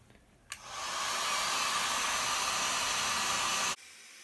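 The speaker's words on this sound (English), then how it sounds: "So I'm going to use my heat gun" A cheap handheld heat gun blows over a fresh acrylic pour painting, clicking on and giving a steady, close airy roar for about three seconds before cutting off abruptly.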